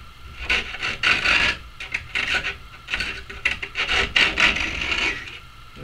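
Razor blade held at an angle slicing and rasping along the edge of skateboard grip tape, a close series of gritty scraping strokes in bursts, with no talking.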